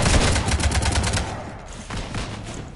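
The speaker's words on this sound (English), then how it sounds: "You want to stop shooting up my ship?" Rapid automatic gunfire in Mass Effect 3 strafing a ship, a dense rattling burst of close shots that thins out, then a second shorter burst, no voices.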